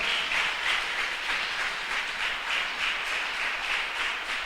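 A church congregation applauds, a dense, continuous wash of clapping that holds steady and fairly loud throughout.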